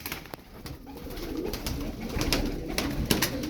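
A pigeon coos softly in low, throaty murmurs, close by, with faint rustling and scattered taps around it.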